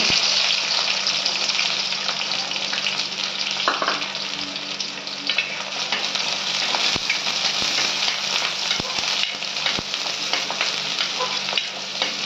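Small onions and curry leaves frying in hot oil in a pan, a steady loud sizzle with crackling and occasional stirring clicks, no voices.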